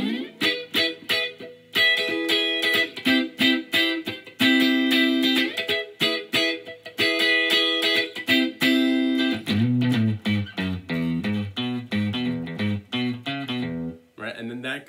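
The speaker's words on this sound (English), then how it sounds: "what we are going to try to do is just this first guitar solo." A rockabilly electric guitar plays the first lead solo of a song: twangy bent double-stops and quick picked licks, then a lower chugging run, close and loud with short pauses.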